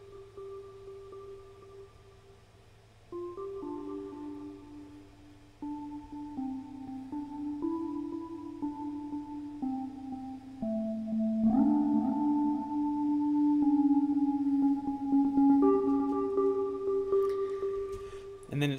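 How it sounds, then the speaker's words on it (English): A slow melody on a custom Vital synthesizer patch with chorus, filtering and a touch of reverb, sustained gliding notes that step higher and grow louder midway, faint and alone. "the melody, which is played on a Vital synthesizer that I made"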